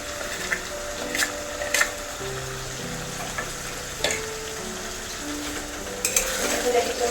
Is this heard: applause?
no